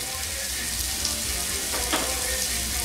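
Onions sizzle steadily in a pan on a wood stove for a pot roast, a constant close frying hiss with a faint scrape of stirring partway through.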